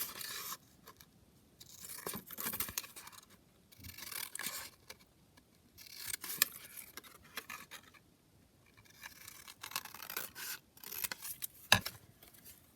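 Scissors snip through a paper tag from a Symphony Orchestra craft kit in a quiet room, giving repeated short bursts of crisp paper cutting and rustling close to the microphone, with pauses between the cuts.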